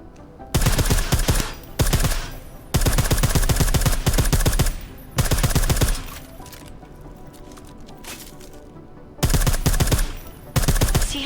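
Suppressed gunfire in a video game, fired in repeated rapid automatic bursts with short gaps between them, loud and up close over a steady game background.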